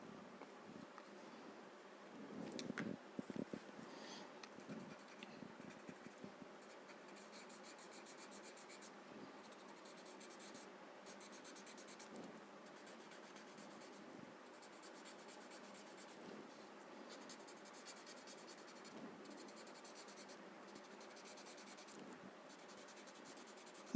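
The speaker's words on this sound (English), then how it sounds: "wherever there is a dip, I am adding some graphite there" Graphite pencil shading on paper makes a close, soft scratchy rubbing that goes on in short repeated strokes with brief pauses, quiet and steady with no talking.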